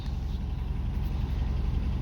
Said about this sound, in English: you can see that it idles just fine